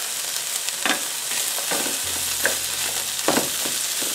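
Borlotti beans with celery and parsley cooking in a pan, a continuous bright sizzle with several soft stirring scrapes and clacks spaced across the clip, no voices.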